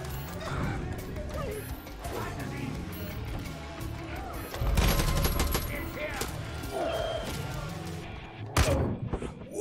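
Bursts of gunfire crack through a busy, noisy Far Cry 5 game soundscape, with a louder volley in the middle and a sharp shot near the end.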